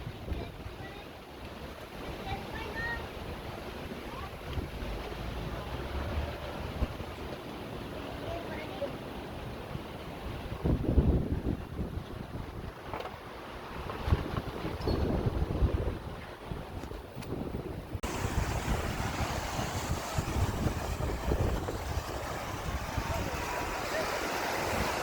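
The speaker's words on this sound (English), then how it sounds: "Made it to the beach" Steady ocean surf at a Hawaiian beach, a continuous washing roar mixed with heavy wind buffeting the microphone, with no clear breaks between waves.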